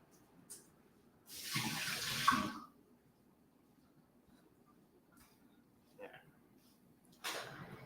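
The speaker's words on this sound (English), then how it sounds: "I'm going to rinse my olive off." Tap water runs briefly from a faucet to rinse a salty olive, a splashy gush lasting just over a second amid quiet kitchen sounds, with a few softer clicks and a short second splash near the end.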